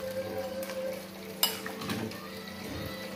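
Chicken with water being stirred in a Teflon pan, giving a quiet low bubbling simmer with a sharp utensil clink and a few soft scrapes over a brief moment, no voices.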